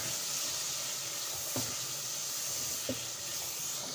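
Green chillies fry in a pan with tomatoes for a mixed vegetable curry, a steady, soft hiss and sizzle throughout with a couple of faint clinks.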